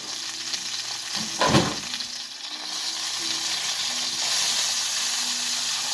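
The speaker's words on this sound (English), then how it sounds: "I'd say that pork steak is just about done. I'm going to heat that a little bit more." Pork steak sizzles steadily in a hot pan, a continuous loud frying hiss with a brief stirring scrape near the start, no talking.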